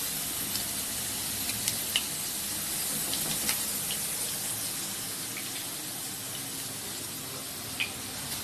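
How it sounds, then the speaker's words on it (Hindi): Potatoes fry in hot oil in a pan, making a steady close hiss and crackle with a few faint clinks and no voices. "आलू फ्राई हो रहा है, करीब 1 मिनट तक इसे फ्राई करना है।"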